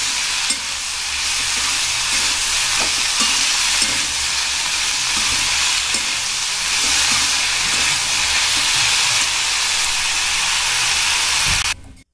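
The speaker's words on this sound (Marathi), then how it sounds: "आता आपण हे सगळं फ्राय करून घेऊया।" Capsicum, onion and mushroom fry in a pan for a homemade veg pizza topping, giving a steady close sizzle and hiss throughout with no talk, cutting off abruptly at the end.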